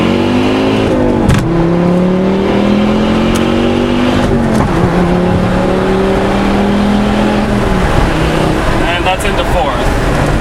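Loud, close exhaust roar from a Volvo S40 T5 AWD pulling hard through the gears, each rising engine sweep cut by a brief dip at the shift, with a continuous rumble throughout.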